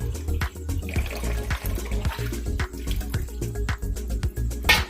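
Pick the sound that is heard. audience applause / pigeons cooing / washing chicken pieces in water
washing chicken pieces in water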